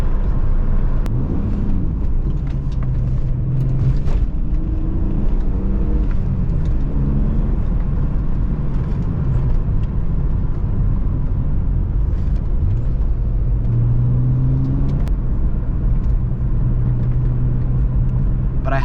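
BMW E36 M3 riding on lowered BC Racing coilovers, heard from inside the cabin as a steady close road and engine rumble with faint rattles and shifting tones throughout, no talking.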